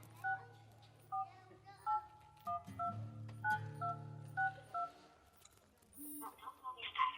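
A telephone number is keyed in on a phone, a clear sequence of about a dozen short two-tone dialing beeps in an uneven rhythm, quiet and close, followed by a brief ringing tone.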